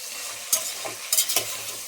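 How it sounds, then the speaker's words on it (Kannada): Onions frying in oil for a drumstick pulao, with a steady low sizzle and a few short bursts of stirring scrapes in the pan; no voices. "ಈರುಳ್ಳಿ ಇವೆಲ್ಲ ಎಣ್ಣೆಲೇ ಫ್ರೈ ಆಗಿಬಿಡಾಗುತ್ತೆ"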